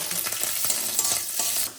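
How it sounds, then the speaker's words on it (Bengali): Freshwater snails and dried lentil dumplings fry in a hot pan with spinach tempering, bay leaf, dried chilli and cumin, a steady bright sizzle with soft stirring scrapes throughout. "এই যে দুগ্গ বড়ি বা গুগলি এইগুলো দিয়ে দেবো দিয়ে ভেজে নেব"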